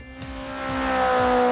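A race car in the Roblox game Car Merge Simulator, a loud, steady engine drone that keeps swelling as it accelerates, heard close with no talking.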